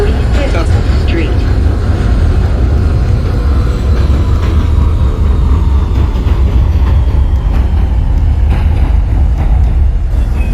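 An NYC Subway R160 train in the OpenBVE simulator rolls out of 95th Street, a loud steady rumble of motors and wheels with rail clatter throughout.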